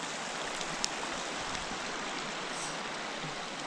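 A mountain creek flowing beside a backcountry campsite in Colorado's South San Juan Wilderness, a steady broadband rush of water, close and unbroken with no voices.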